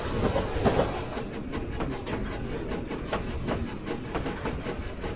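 Toy train running along a track with a steady rhythmic clicking and rattling, moderately quiet and continuous throughout with a soft hiss beneath it, no voices.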